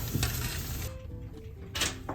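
Salted chicken wings fry in hot oil in a home kitchen, a steady crackling sizzle broken by a few soft clinks and knocks of pans and utensils.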